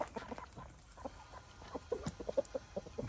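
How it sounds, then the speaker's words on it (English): Chickens on a Portugal homestead cluck softly and repeatedly as they are let out of the coop, a scattered run of close, low calls with occasional sharper notes. "we're going to need to let the chickens out just to give them a bit of space"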